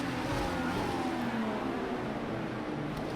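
An IndyCar engine in Project CARS 2 at Circuit of the Americas revs continuously as it climbs through the gears, a loud, buzzing race-car drone with shifting pitch steps and no speech.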